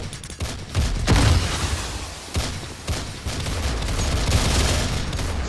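A Counter-Strike match with a rapid spray of gunfire and a grenade blast, loud and dense, with bursts of shots spread across the whole stretch.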